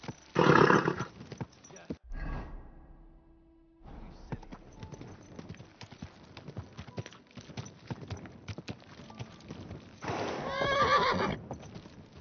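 A horse whinnies loudly near the start and again near the end, with hoof clops and a voice talking in between.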